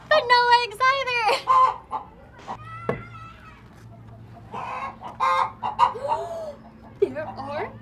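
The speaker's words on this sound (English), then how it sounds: "There's a really big chicken in here" A large chicken clucks and squawks repeatedly in a farm coop, with several close, loud bursts of calls separated by short pauses over a faint steady background hum.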